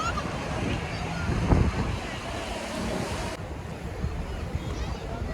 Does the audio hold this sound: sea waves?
yes